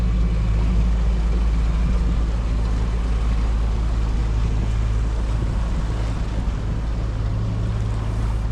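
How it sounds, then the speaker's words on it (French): A sailboat motoring under engine power on a nearly windless Atlantic crossing: a steady low engine drone with wind and water noise running continuously throughout, no talk. "On est au moteur parce que le vent nous a complètement abandonné encore cette nuit."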